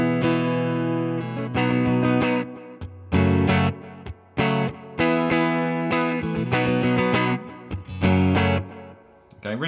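Electric guitar with a capo plays the chorus of a song through distortion and chorus effects, in loud, close bursts of strummed chords broken by short gaps and abrupt stops, with no voices.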